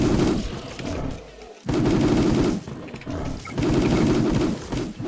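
Bursts of rapid gunfire in an online shooter game come in three long loud volleys with short gaps between them. Faint voices can be heard underneath.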